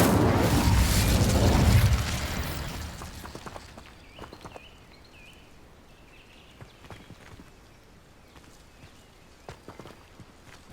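The Incendio fire spell is cast in Hogwarts Legacy on Xbox Series X. A loud, roaring whoosh of flame lasts about two seconds, then fades to a quiet background of soft footsteps and small scattered clicks.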